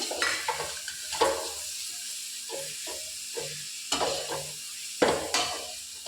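Washed mushrooms sizzle in a little oil in a pan while a utensil stirs them, with soft scraping strokes and brief louder bursts of frying rising over a steady low hiss.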